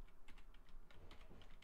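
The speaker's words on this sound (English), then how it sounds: "Oh no, now I'm typing in the team chat." Fingers clatter on a computer keyboard while a team chat message is typed during a shooter game, quick irregular key taps close up with no talking.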